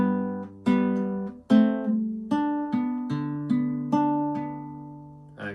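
Classical guitar plays a slow fingerpicked arpeggio pattern from Carulli's Valse no. 21, with distinct plucked notes in a steady repeating rhythm, each ringing and decaying, close and clear with no voice over it.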